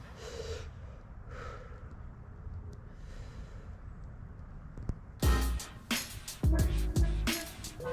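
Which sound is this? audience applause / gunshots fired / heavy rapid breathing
heavy rapid breathing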